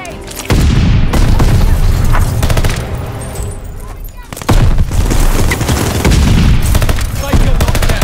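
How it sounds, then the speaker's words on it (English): Stun grenade and rapid gunfire from a Call of Duty Vanguard Team Deathmatch match on the Gondola map, with loud dense bursts of shots and booms filling the clip, a brief drop near the middle before the firing resumes. "Tossing stun grenade."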